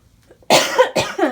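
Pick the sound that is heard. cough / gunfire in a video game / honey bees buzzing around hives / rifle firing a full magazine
cough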